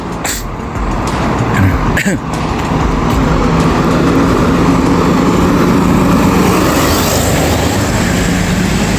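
A large vehicle passes in busy street traffic with a loud, sustained engine rumble and road roar close by, joined by a brief clatter near the start, the heavy drone continuing steadily to the end.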